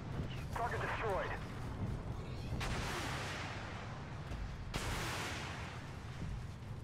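Short-range artillery-style cannon fire from an AGDS Abrams in the tank game Armored Warfare: two heavy booming shots about two seconds apart, loud and close, over a steady engine rumble.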